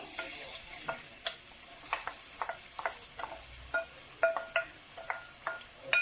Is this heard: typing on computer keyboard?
no